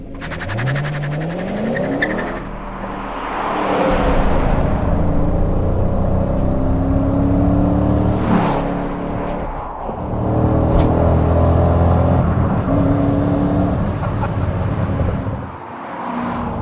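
A 1993 Nissan 240SX project car drives with a steady engine rumble that rises and falls as it accelerates and revs through gears, with brief dips between pulls, close and loud throughout.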